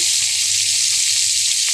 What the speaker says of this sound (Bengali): মাছের মাথাটা লাল লাল করে ভেজে নেব।